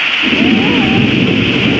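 Loud, dense downpour of heavy rain roars steadily, with a deep rumble of thunder swelling underneath.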